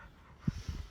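A dog close by gives a few soft, brief breathy pants or low whimpering sounds, faint against quiet background noise.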